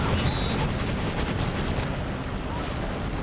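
Gunfire in the Battalion Wars video game, a dense steady barrage of shots and explosions that runs continuously and loud throughout, with no pauses.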